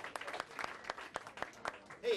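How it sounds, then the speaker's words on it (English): A small audience applauds with scattered, uneven hand claps that stay fairly quiet and sparse, and a voice briefly comes in at the end. "You better clap."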